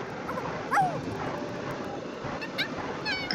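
A fluffy dog creature in the video game Infinity Nikki whimpering with short high whines, over a soft watery ambience, with brief chiming game sounds.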